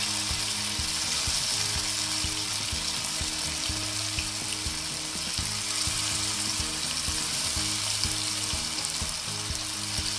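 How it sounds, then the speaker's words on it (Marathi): Marinated paneer tikka fries in a little oil, a dense, steady sizzle that runs unbroken and fairly loud throughout. "आता थोड्या कमी तेलामध्ये छान होऊ द्यायचं याला ब्राऊन."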